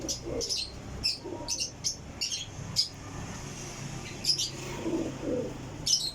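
Loft pigeons give soft repeated coos mixed with short bright chirps and occasional rustling or wing movement, close by over a steady low background.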